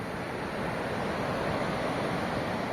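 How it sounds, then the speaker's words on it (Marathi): The Indus river flows past its bank in the Aryan valley, a steady broad rush of water filling the short stretch with constant, even noise and no voices. "आणि हा दिसतोय हा आपल्याला सिंधू नदीचा काठ"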